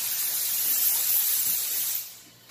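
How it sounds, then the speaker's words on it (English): Steam locomotive venting steam: a loud, steady broad hiss that holds for about two seconds, then quickly dies away, with no voices. "this was them venting the chamber, or venting the coal before they started going again"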